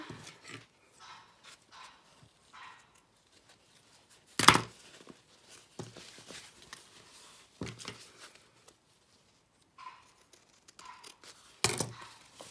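Scissors cutting through a paper notebook insert, a few short crisp snips separated by pauses, close and quiet, with faint rustling in between.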